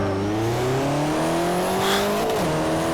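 A Peugeot 205 T16 rally car in Forza Motorsport 4 revs hard on a mountain run, the engine pitch climbing steadily through the gears with a brief dip and shift near the end, loud and close with no talk.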